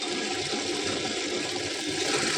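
A wet grinder churns soaked rice and urad dal into batter, giving a steady, loud, continuous whirring grind with a watery churning texture that holds throughout, with no voices.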